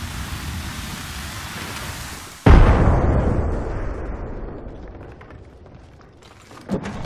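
A frag grenade detonates in Apex Legends: a sudden loud blast cuts through steady background noise and rumbles away over several seconds, followed by a smaller sharp pop near the end.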